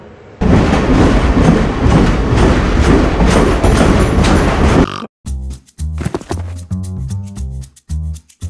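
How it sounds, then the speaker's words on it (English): A train in Team Fortress 2 roars into a platform loudly with dense rumbling noise, then cuts to a rhythmic clatter of wheels and mechanical thumps. "please stand back from the approaching train"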